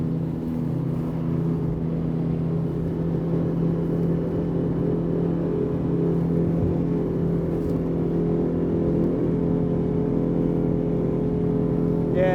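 Flipper 900 DC motorboat swinging round to starboard at sea, twin engines holding a steady, droning hum throughout, moderately loud and continuous with little change in pitch.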